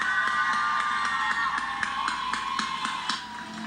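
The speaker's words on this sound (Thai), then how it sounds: "ขอเสียงปรบมือดังให้กับน้องต้นน้ำครับ" A studio audience at a children's TV talent show applauds an 8-year-old girl singer, a continuous wash of clapping and cheering with faint tonal music running underneath.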